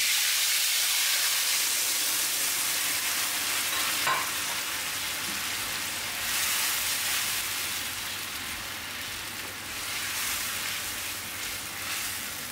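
Tomatoes fry in a kadai with cinnamon, cloves and cardamom, giving a loud, steady sizzle and hiss with faint stirring scrapes and no talking.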